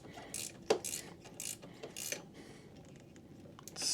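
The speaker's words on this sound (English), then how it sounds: "And once I get it started back, just ratchet it like this" Flex head ratcheting wrench clicking as it runs down a bolt in a tight spot on a motorcycle, a series of close, quiet ratchet clicks in short uneven bursts with faint metallic creaks.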